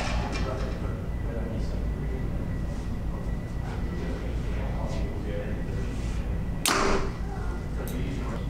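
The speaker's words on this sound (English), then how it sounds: "I like to shoot a bare shaft through paper first" A bare-shaft arrow shot from a Mathews VXR 28 compound bow tears through paper with one sharp, loud crack near the end, following steady room noise and faint background murmur.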